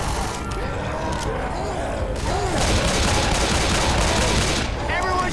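Video game gunfire during a firefight against a tank, dense bursts and volleys of shots rattling continuously and loudly, with shouting voices mixed in over the shooting.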